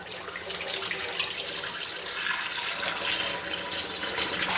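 Tap water runs steadily into a sink while raw meat is washed, a continuous close hiss and splash with no talking.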